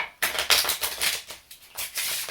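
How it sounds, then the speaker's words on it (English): A deck of playing cards being riffle shuffled by hand, giving a run of close, crisp flutters and snaps in quick bursts, with no talking. "So here we go, a genuine riffle shuffle."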